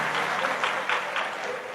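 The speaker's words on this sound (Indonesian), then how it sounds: "Kok udah tepuk tangan toh?" Short burst of audience applause at a talk, with brisk overlapping claps that swell in small waves and hold at a fairly close, even level without speech.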